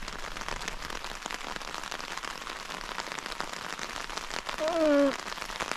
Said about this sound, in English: Let's have a little bit of rain on the tent noise.